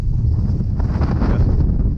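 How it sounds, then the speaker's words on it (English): Strong wind buffets and roars continuously at a rock pile while fishing for crappie, a loud, close, blustery rush with no voices. "Man, it's windy as heck."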